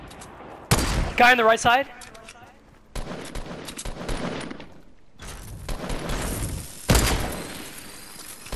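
Revolver shots in a Fortnite Battle Royale squads match: a handful of sharp, loud cracks spread across several seconds, with a voice talking over the opening shots.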